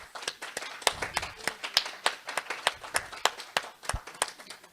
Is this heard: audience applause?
yes